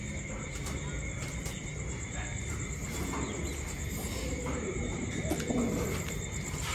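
Thai Titan pigeons coo softly in a steady, low murmur at a farm, a continuous hum of calls with faint insect chirping and a high electrical whine underneath.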